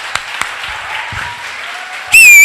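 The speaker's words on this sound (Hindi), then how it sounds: "पहले तो परमेश्वर के लिए ताली बजाओ कि ऐसे भी कुछ है" A congregation claps for God during a worship service: a steady wash of many hands from a fair distance, with a few sharper claps early on. Near the end a loud, wavering tonal whine suddenly cuts in over it.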